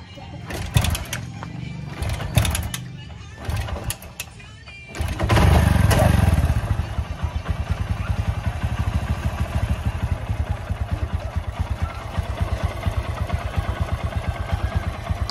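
A 2012 Honda XR125 motorcycle engine, just after an oil change. Some clattering handling noises come first, then the single-cylinder engine starts and settles into a steady, even idle nearby, with faint voices at the start.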